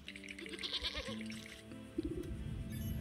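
A black ram bleats in the video game Wytchwood, several short wavering cries in close succession over soft game music.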